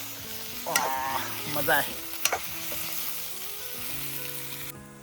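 Spiced fish fries in a pan with a continuous close sizzle, stirred now and then, while someone speaks briefly over the cooking.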